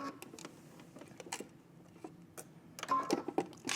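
A home sewing machine backstitches a seam on a wrap dress in short, uneven bursts of rapid mechanical ticking and whirring, with a louder, denser run near the end.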